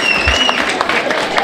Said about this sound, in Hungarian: és tapsoljuk meg